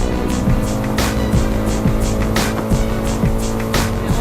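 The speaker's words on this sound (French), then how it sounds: "On est dans un tuk-tuk." A tuk-tuk, a small three-wheeled motorbike taxi with two rear wheels and one front, rides through Bangkok traffic, its engine a loud close buzzing drone with rhythmic revving pulses and passing street noise around it.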